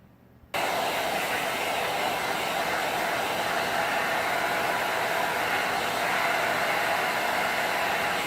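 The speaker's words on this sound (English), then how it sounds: "So I'm gonna use a hairdryer." A hair dryer switches on after a brief quiet moment and blows with a steady, loud whooshing roar that holds evenly to the end.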